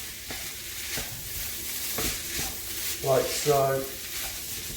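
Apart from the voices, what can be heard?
stirring rice in a pot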